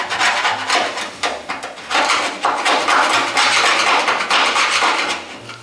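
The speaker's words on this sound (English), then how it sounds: "I'm going to take the screwdriver and I'm going to go ahead and pretty much scrape it out just like you see" Steady scraping with a screwdriver against the bare metal of a car body during restoration prep, a busy, gritty rasp with repeated sharp knocks and strokes that runs nearly continuously and fairly loud, with no talking.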